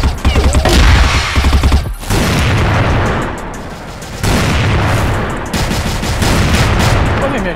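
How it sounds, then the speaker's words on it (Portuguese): Loud, dense gunfire in an online shooting video game, rapid automatic bursts and heavy booming shots overlapping in a chaotic, continuous barrage at close range. "Me dando um monte de tiro."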